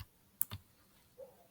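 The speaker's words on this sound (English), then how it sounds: "Then I'll press Fn from my keyboard" A single faint click of the Fn key being pressed on a computer keyboard, brief and quiet against near-silence, followed by a couple of softer taps.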